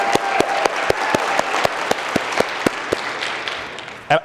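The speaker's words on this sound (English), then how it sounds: "Cheryl, come on, stand up, Cheryl. Give her a round of applause." Conference audience applauding a woman asked to stand, a steady wash of many hands with sharp individual claps standing out, fairly close and loud, ending in one louder burst.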